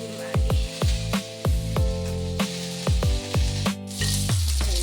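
Oil sizzling hard in a pan as okra fries for a family lunch in a home kitchen: a loud, steady crackling hiss with regular thumping knocks from the pan, close and continuous.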